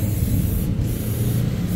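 A WD-40 spray can, aimed at chain blocks to keep off rust, hisses in one steady, continuous burst close to the listener, with no voices.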